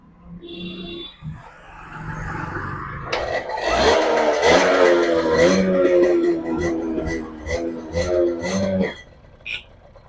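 TVS XL Super moped engine cranking and catching, then revving several times at close range with uneven bursts before cutting off, with brief voices nearby.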